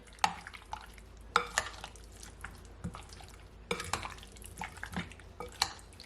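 A spoon scraping and clinking against a bowl while mixing a jerk chicken wing marinade, with irregular soft taps and wet stirring sounds heard close up and no talking.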